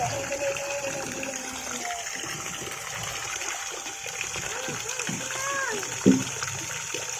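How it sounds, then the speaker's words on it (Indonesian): A mini submersible 12-volt DC water pump sprays a steady gushing stream, a continuous rushing hiss of water with a faint splash near the end, heard close with some background activity. "pompa sudah menyala, langsung disembur seperti ini"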